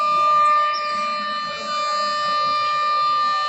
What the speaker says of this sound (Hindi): उसकी ये सायरन बजी है इस मस्जिद से।